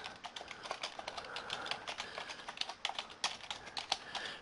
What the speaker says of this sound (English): I'm not going to click anywhere with the mouse, I'm simply just going to type the name